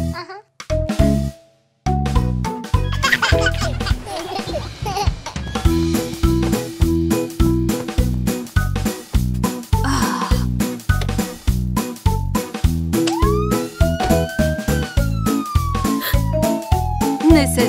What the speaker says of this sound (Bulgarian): Сирената съобщава на лошите, че съм тук.